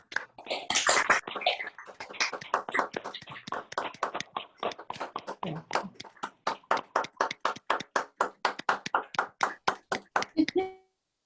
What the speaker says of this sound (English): just give a round of applause to our graduates